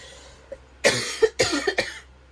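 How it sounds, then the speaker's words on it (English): Several sharp, close coughs in quick succession, a single faint one first, then a cluster of four loud hacks. "because I'm coughing"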